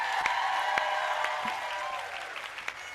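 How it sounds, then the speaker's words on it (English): An awards-night audience applauds consultants marking twenty years, a steady dense round of clapping from a large crowd with a few sharper individual claps standing out. "Let's give our 20-year consultants one more round of applause as they take their seats"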